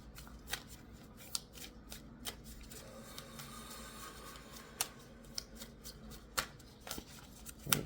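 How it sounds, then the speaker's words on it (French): A deck of tarot cards is shuffled by hand nearby, soft riffling and sliding with repeated crisp snaps at irregular intervals, quiet and without talk. "On brasse, on coupe. On va les brasser comme il faut."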